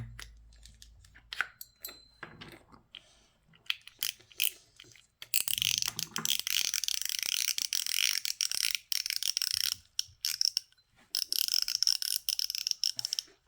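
A Daiwa Strikeforce 4000-B spinning reel turned by hand, giving a rapid ratcheting mechanical whir in close bursts with brief pauses, starting sparse and then running in longer continuous spins.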